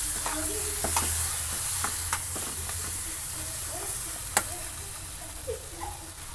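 Eggs frying in a pan while making potato egg curry, a steady sizzle with scattered clicks and scrapes of stirring close by, no talking.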